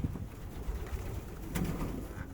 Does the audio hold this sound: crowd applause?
no